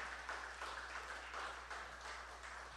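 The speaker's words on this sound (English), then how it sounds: "Give Dr. Gilbert a round of applause" An audience applauds Dr. Gilbert, the Labour candidate, at a community conversation event, a steady wash of many hands clapping, moderately distant and fairly faint, over a low hum.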